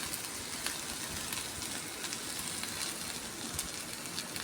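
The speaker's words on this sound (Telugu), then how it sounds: "ఇప్పుడు టమాటాలు వేస్తున్నానండి" Tomatoes frying in a pan for tomato chutney, a steady soft crackling sizzle with tiny pops, alone and fairly quiet throughout.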